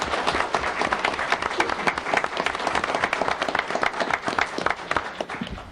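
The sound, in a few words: audience applause for contest winners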